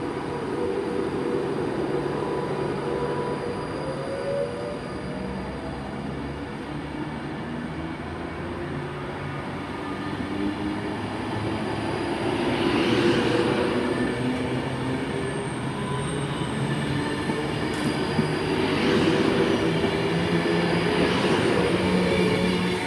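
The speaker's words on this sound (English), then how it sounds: "It's 390-049, heading off to Manchester Piccadilly from Milton Keynes Central." Class 390 electric train 390-049 departing Coventry station, a sustained rumble of wheels and traction with squealing tones and rising whines as it pulls away, loud and close, no talk.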